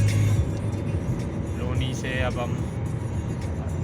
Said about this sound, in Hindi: ट्रैफिक दिख ही रहा है आपको, देखिए कितना ट्रैफिक है।